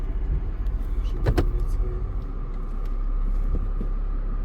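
A Mercedes W211 E320 eases into reverse, its engine a low steady rumble close by, with a couple of brief mechanical clicks early on before the drone grows slightly.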